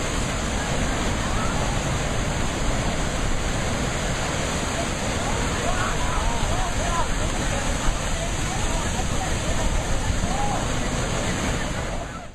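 Turbulent water churns violently in a deadly pool, a dense, loud, unbroken roar of rushing surf that holds steady throughout.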